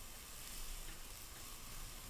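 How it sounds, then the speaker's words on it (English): Oil sizzles steadily in a pan as the filling for vegan pulut panggang fries, a soft, continuous hiss heard at low level with no voices. "Now it's starting to sizzle"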